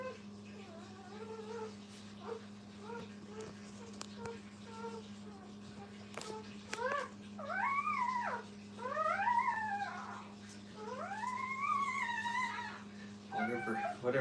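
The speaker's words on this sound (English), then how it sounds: "just listen to the puppy barks and growls" Puppies at a dog training kennel whimper and yelp in several rising, whining cries near the end, fairly faint over a steady low hum, with soft background sounds throughout.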